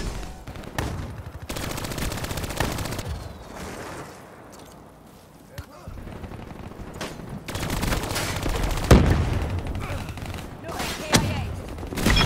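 A hardened sentry gun in Call of Duty Black Ops III fires in bursts of rapid automatic gunfire, rising and falling amid other battle noise and sharp cracks, with a voice speaking at times.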